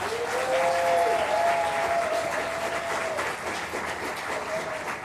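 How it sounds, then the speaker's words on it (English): Audience applause fills a music festival performance space, a broad steady wash of clapping throughout, with some sustained tonal sounds sitting above it. "Can we give them a round of applause one more time?"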